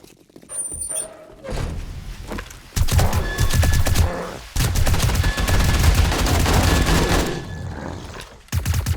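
Gunfire in the video game 7 Days to Die comes in dense, rapid bursts and sustained volleys, loud and close, with short pauses between the clusters of shots.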